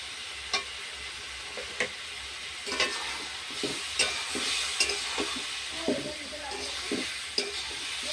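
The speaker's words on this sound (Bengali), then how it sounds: "আমি ফুলকপি আর আলুটা দিয়ে দিলাম দিয়ে এটাকে আমি ভালো করে কষিয়ে নেব" Cauliflower and potatoes sauté with green chili and ginger paste in a village kitchen, a steady sizzle running throughout with recurring scrapes and knocks of stirring close by.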